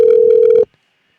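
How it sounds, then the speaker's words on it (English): A telephone dialing out before a radio host's on-air call to a dirt track racer: a loud, steady tone holds for about half a second, then cuts off abruptly into silence. "We're going to get Kyle Strickler on the phone, and hopefully he answers."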